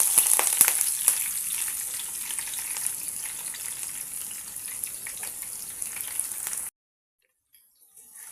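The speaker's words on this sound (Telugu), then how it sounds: "ఇప్పుడు వీటిని ఒక ఐదారు నిమిషాలు బాగా ఫ్రై చేసుకోండి కొంచెం లైట్ బ్రౌన్ కలర్ వచ్చేంత వరకు" Chopped onions, curry leaves and green chillies sizzle in hot oil for a prawn curry, a steady broadband hiss that holds evenly for several seconds and then cuts off abruptly into silence.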